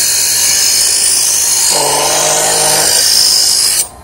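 A cheap electric knife sharpener grinds a huge stainless steel Bowie knife with a loud, steady high-pitched whine. Midway a lower grinding tone joins as the blade presses in, and the sound cuts off abruptly near the end.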